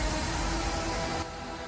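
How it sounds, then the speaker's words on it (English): Loud, dense electronic club track from the Berlin nightclub level of the video game Hitman 3, a thumping full-range mix that briefly drops in intensity near the end, with no voices over it. "it sounds like this"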